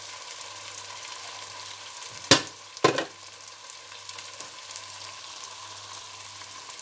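Kofta curry masala fries in ghee and oil in a pan, a soft steady sizzle broken by two sharp clanks of a utensil partway through.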